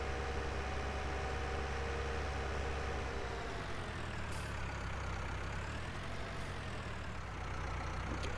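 A tractor engine idles in the video game Farming Simulator 19, a continuous low, steady rumble held throughout at an even level with a light background hiss and no talk.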